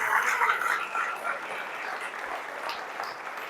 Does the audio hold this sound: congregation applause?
yes